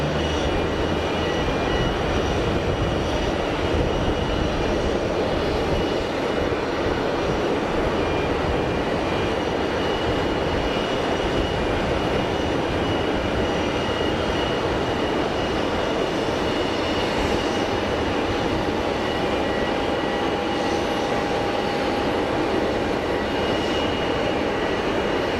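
An easyJet airliner from Spain takes off, a steady, loud broadband jet roar that holds for the whole span with a faint whine riding on top, no voices.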